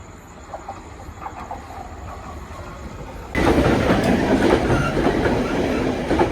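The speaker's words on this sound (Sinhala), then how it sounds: "ඔය ඈතින් එනවා පේන්නේ මං කොළඹ යන ට්‍රේන් එක." A train bound for Colombo approaches, a rising rumble and clatter that jumps suddenly louder midway and stays heavy and close to the end.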